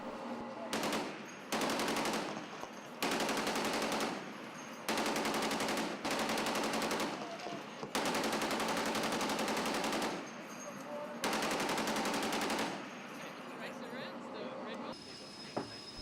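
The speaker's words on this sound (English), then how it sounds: "Sailors at action stations clad in bulletproof vest fired rounds from .50 and .40 caliber guns" Long bursts of heavy naval machine gun fire from .50 and .40 caliber guns aboard a ship, several sustained volleys separated by short pauses, loud and close, with faint voices in the gaps.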